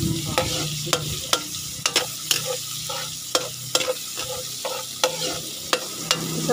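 Garlic and onion sauté in a pan for pinakbet, a soft steady sizzle broken by sharp, regular spatula scrapes and taps against the pan, close and clear with no talking.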